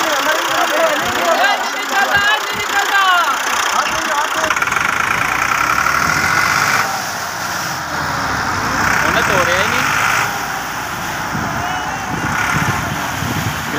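A 385 tractor runs a steady, loud engine drone while towing a stuck 260 tractor with a chain in a rescue. Voices talk over the engine throughout.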